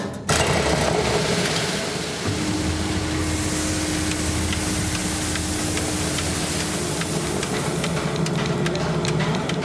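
A small stone flour mill with a 50 cm millstone starts up and grinds Provence wheat, a sudden onset followed by a steady, dense mechanical whirring and rumbling hum that runs continuously, fairly loud and close.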